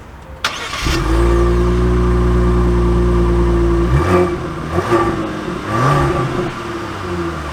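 A 2023 Genesis GV80 3.5T SUV engine starts with a sharp click, settles into a loud, steady hum, then revs and accelerates in rising surges, heard close with no talk.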